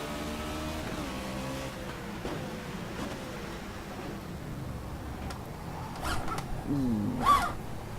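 A stock car engine in the rFactor 2 racing game at Nola Motorsports Park drones steadily with shifting pitch, then swells into a louder rev near the end, with no talk over it.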